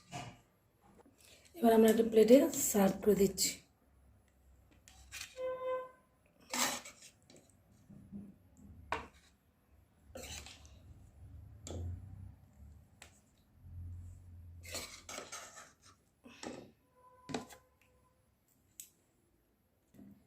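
Clattering of dishes and cutlery while pithe is served onto a plate, scattered close clinks and knocks between stretches of someone talking, quiet overall with pauses.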